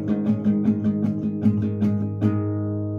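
Guitar chords strummed quickly in a steady, driving rhythm, close and clear, ending on a ringing chord with no voices.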